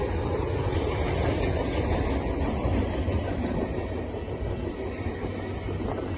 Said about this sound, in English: Trains heading east.